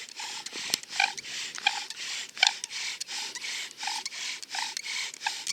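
A wooden spindle drilled back and forth against a grass tree baseboard for friction fire, giving a steady rhythmic rasping rub, about a dozen strokes at close range with no talking.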